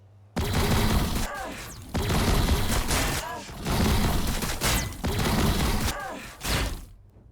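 Heavy gunfire from a Tau firing squad in the Warhammer 40,000 video game, four long loud roaring bursts of sustained volleys with crackling impacts, each separated by brief gaps.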